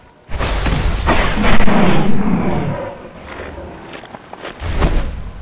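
Partystarter explosive rounds detonate among enemies in Fallout 4, a loud booming blast with a rumbling tail, followed after a lull by another heavy thud.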